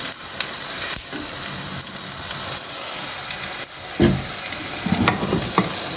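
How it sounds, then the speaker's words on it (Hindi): Onions fry over a full flame, giving a loud, steady sizzle and hiss with occasional scraping stirs and clatters, close up and with no voices. "फुल फ्लेम पे मैं प्याज फ्राई कर रही हूँ।"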